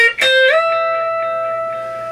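Distorted electric guitar playing a phrase: a quick pick attack and hammer-on into a long sustained note that rings out and slowly fades, alone and fairly loud.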